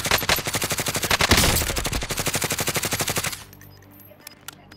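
Rapid automatic gunfire in Rebirth Island, a steady machine-gun-like burst of close, loud shots lasting about three seconds before cutting off to quiet game ambience.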